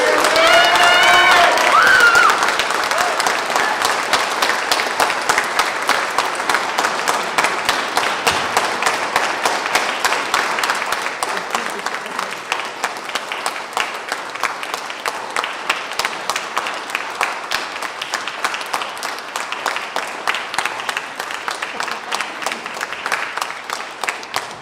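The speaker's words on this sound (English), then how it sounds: "round of applause" A standing audience at an Eagle Scout Court of Honor breaks into loud, sustained applause, dense rapid clapping that holds steady for about twenty-five seconds and slowly thins toward the end, with brief cheering at the start.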